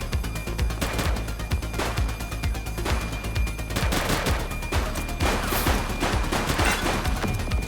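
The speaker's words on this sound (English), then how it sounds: "Shooting!" Sustained gunfire from The Precinct fills the scene, with loud rapid volleys and repeated sharp shots cracking without pause over a dense, continuous action backdrop.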